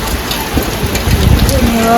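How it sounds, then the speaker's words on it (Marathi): Rain patters steadily on a surface close by at a house with a leaking roof, a dense hiss with scattered drops, and faint voices murmur in the background. "इथे पाऊस पडतो"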